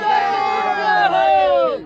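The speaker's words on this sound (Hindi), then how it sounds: "बहुत भीड़, बहुत दसों लाख, लाखों से लाखों भीड़।" A large crowd gathered to see Bageshwar Baba raises a loud, close collective shout, several voices rising and falling together in a sustained chant-like cry.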